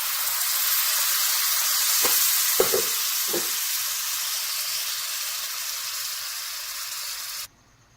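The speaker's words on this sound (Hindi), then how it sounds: "अब इसके अंदर जो है वो मैं अपना कोकोनट मिल्क जो है वो डाल रही हूँ।" Coconut milk hits a hot pan for sugar-free, dairy-free keto kheer, giving a loud, steady sizzling hiss with a few soft stirring knocks, then cutting off abruptly near the end.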